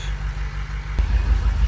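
A BMW M8 Competition fitted with a catless downpipe and Eventuri carbon intakes idles with a deep, steady low rumble, then the tone thickens and grows slightly louder about halfway through, as if the engine settles or rises a little.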